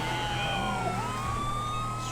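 A police car siren wails in the GTA 5 LSPDFR game, a sweeping electronic tone rising and falling steadily over engine rumble, with no talk.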